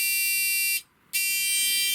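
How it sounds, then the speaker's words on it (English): Homemade timer-circuit buzzer wired to the indicators of a Longjia GY6 scooter gives a loud, steady electronic tone that cuts out once briefly and then resumes. "I have wired it in so it's got a buzzer on it."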